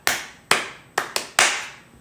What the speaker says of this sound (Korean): 박수 다섯 번 시작!